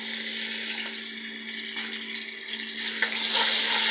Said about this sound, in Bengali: এখানে আমি আদা রসুন বাটা দিব